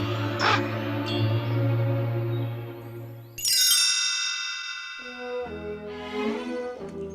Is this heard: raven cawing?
yes